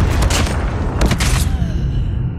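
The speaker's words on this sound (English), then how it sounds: "Be advised, hostile predator missile inbound." An incoming predator missile explodes amid gunfire in the mobile shooter Call of Duty Mobile, with loud, dense booming blasts and a burst of rapid fire that fade into a rumbling tail over a couple of seconds.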